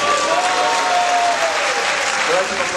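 An audience applauds after a lecture in Moscow, a dense, steady burst of clapping that fills the hall from start to finish, with a faint tonal whistle or voice drifting beneath it.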